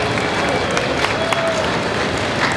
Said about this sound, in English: Big round of applause for Shannon.